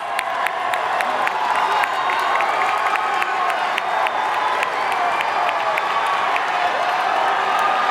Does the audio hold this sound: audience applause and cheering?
yes